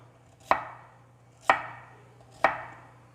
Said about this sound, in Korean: 이렇게 한 다음에 요 정도 두께로 써세요.